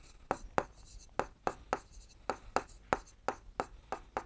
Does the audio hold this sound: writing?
yes